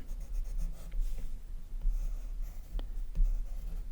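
Pencil drawing Pokémon on paper, a close, steady scratching and rubbing of graphite with short strokes and small taps over a low room hum, no talking.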